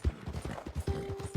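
Horse hooves clip-clop in a quick, even rhythm from a bluish roan horse in the western video game Red Dead Redemption 2. The beats are soft and fairly close, with a faint steady hum partway through.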